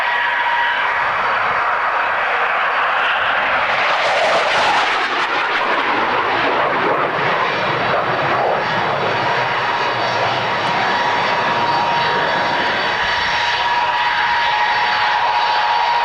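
At the 1993 Coningsby airshow, an aircraft makes a fast run left to right, its engine roar swelling loud as it passes and fading slowly into a long, steady rumble; no voices.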